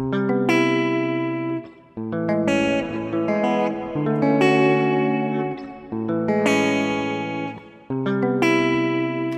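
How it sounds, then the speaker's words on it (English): Electric guitar chords ring out with a big, spacious reverb, each strum swelling and trailing off into a long wash before the next. "that's like a basic reverb"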